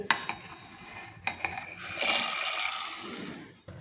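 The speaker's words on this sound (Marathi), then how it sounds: "ते मी एक मिक्सरचं भांडं घेतलेलं आहे, त्याच्यामध्ये हा सर्व साबुदाणा टाकून घेते." Dry sago pearls are tipped into a steel mixer jar in a home kitchen: a few light clinks, then a hissing, rattling pour of tiny grains for about a second before it trails off.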